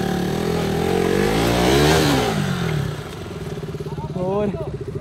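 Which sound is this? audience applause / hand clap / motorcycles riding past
motorcycles riding past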